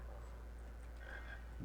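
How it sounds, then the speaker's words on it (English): A frog croaks in a Harry Potter video game, a brief low croak set against steady game background noise, fairly faint and alone without talk. "Alright, frog."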